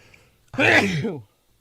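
A single short sneeze, loud and close, lasting under a second in a quiet room.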